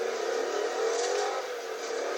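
A car engine revs and accelerates in a driving game, a steady loud whirring roar that holds through the whole clip with no talk over it.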